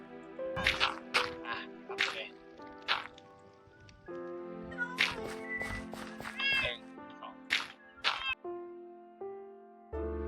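Cat meowing in Minecraft survival mode while the player breeds cats: several short, clear meows come in quick bursts, separated by pauses and the game's soft background tones.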